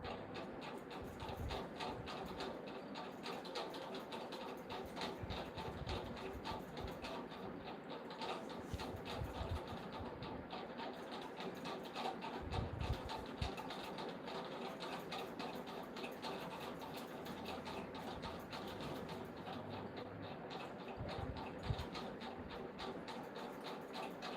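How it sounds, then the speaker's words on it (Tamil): An electric fan runs steadily indoors, giving a continuous whirring hum with a faint rhythmic ticking throughout, with no talk over it. "ஃபேன் சவுண்டு டிஸ்டர்பாக இருந்தால் சொல்லுங்கள் ஃபேன் ஓடிட்டுருக்கு"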